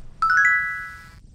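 Text message alert from a mobile phone in the horror game Corpse Party: a quick run of bright chime tones that rises in pitch, then one ringing note fading out over about a second, alone above a low murmur.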